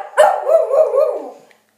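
A dog gives one drawn-out, whining bark, close and loud, lasting just over a second before silence, with no talk around it.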